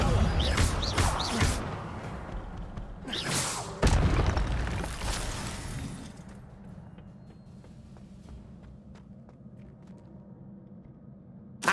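In the Hogwarts Legacy video game, the Incendio fire spell erupts in loud booming, roaring bursts, with several heavy blasts early on, then a lower rumbling tail. A player talks over the game sound.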